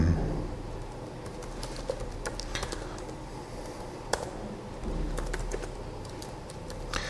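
Fast keystrokes clatter on a computer keyboard while someone types out a shell script, the taps sharp and close with a few louder key hits standing out against the steady rattle.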